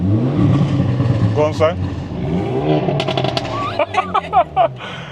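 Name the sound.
straight-piped Audi S3 exhaust revving and accelerating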